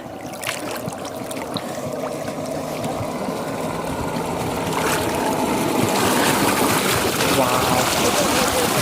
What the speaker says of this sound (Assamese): পানীৰ মাজত বাইক চাওক।